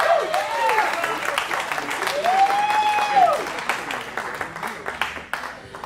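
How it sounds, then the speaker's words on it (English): An open mic jam audience gives a warm round of applause, dense clapping with cheers, while a host's voice carries over the crowd. "All right, give yourselves a round of applause."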